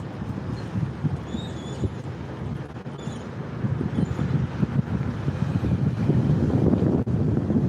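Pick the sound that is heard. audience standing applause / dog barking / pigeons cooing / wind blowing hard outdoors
wind blowing hard outdoors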